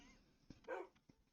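Pet dogs in the Minecraft video game give a few short yips and a brief whimpering bark, close and fairly soft, spaced unevenly across a moment.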